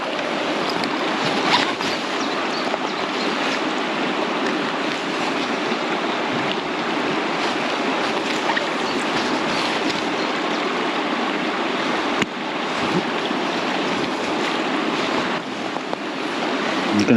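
Shallow, fast-flowing spring salmon river rushing steadily over stones, a continuous broadband wash of moving water close by, with no voices.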